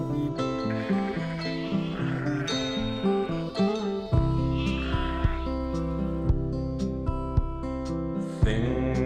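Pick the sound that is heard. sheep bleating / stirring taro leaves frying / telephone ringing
sheep bleating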